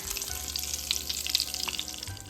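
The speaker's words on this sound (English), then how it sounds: "Deep fry some curry leaves until crispy." Curry leaves deep frying in hot oil for a cornflakes chivda snack, a steady bright sizzle with crackling pops running close and continuous, no voices.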